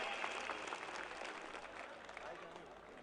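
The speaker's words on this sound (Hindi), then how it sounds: "जोरदार तालियों से उनका एक बार स्वागत कर दें" Loud, dense applause from a large crowd at an outdoor Rajasthani devotional bhajan program, welcoming a Khinvsar MLA; steady clapping fills the whole stretch without letting up.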